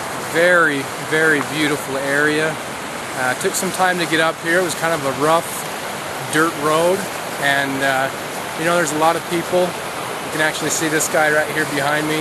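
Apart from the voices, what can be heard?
river flowing nearby on a mountain day hike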